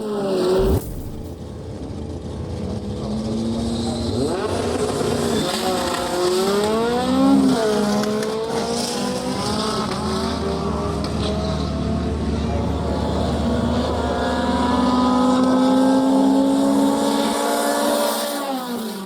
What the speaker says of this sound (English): The Civic nails the start and holds off the Starlet.